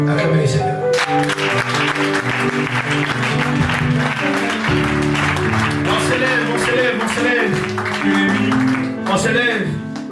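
Church congregation at an evangelical service applauding and acclaiming, loud sustained clapping mixed with shouts and voices throughout, the crowd's cheering swelling and continuing without a break.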